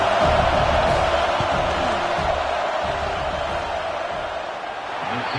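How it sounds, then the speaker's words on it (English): Football stadium crowd roaring during a field goal attempt in a USC versus Illinois game, a dense sustained wash of cheering and shouting that swells loudly and eases slightly, with no clear single voices. "This crowd trying to do its part to get inside the kicker's head."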